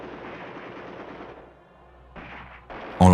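Tank and artillery fire in an early-1941 battle as British troops attack, heard as a dense, rumbling barrage that fades, then returns in sharp bursts ending in a loud close blast.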